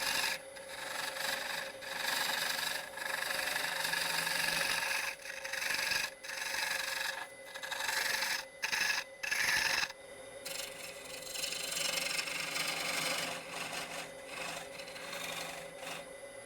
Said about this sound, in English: I'll plunge the bowl gouge in to create the tenon, and then I'll use the skew chisel to clean up that inside corner